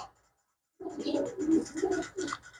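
A pigeon coos close by in a short series of soft, throaty rolling calls after a moment of quiet.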